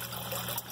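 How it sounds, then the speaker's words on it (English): Water pours into an overflow siphon tube, a brief, steady rushing gush held at close range with no talking. "fill the whole thing with water"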